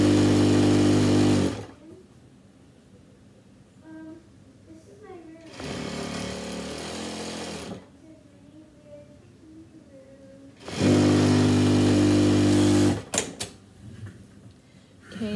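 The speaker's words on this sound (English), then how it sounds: "I'm gonna sew all the way up and all the way down this whole side so that the hood is sewn together" Sewing machine stitching a hood seam together, loud steady mechanical whirring in two runs of about two seconds each with a shorter burst between, separated by quieter stretches of talking.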